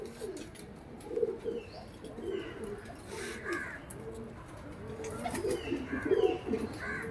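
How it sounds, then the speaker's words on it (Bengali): Male pigeon cooing while held in the hand, repeated low throaty coos close by, with faint background chatter and a few distant bird chirps. "এটা কি পায়রা, নর না মাদি? এটা নর পায়রা কালাঙ্কা।"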